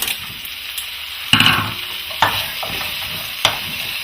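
Carrots and green beans land in a hot frying pot with diced turkey breast, giving a steady sizzle punctuated by a few sharp stirring clanks and scrapes.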